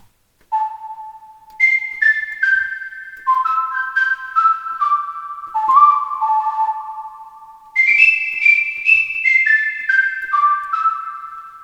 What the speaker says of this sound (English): we have a whistle sound also